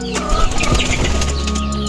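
Banded breeder pigeons in a club loft, soft low cooing mixed with chirps and a brief flutter of wings, close by and steady against a busy background.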